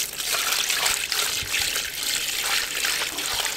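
Water is poured from a container over drywall mud in a bucket, a steady close trickling and splashing stream running continuously for several seconds.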